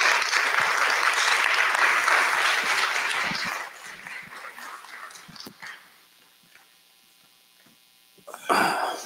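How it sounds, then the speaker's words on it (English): An audience breaks into loud, dense applause for Van Lathan at RIDE Con, which fades after a few seconds into quiet room noise before a brief burst of sound at the end. "let's give a round of applause to Mr."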